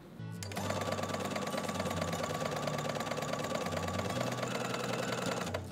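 A sewing machine stitches fabric while a blouson is sewn, running at a steady fast rhythm after a brief start, close and loud throughout with a constant mechanical whir and rapid needle clatter.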